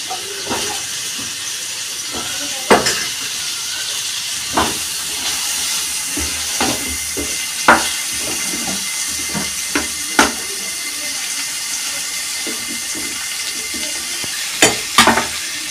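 Potatoes frying in hot oil in a home Bengali kitchen, a steady close sizzle and hiss broken by occasional sharp knocks and scrapes of a spatula against the pan.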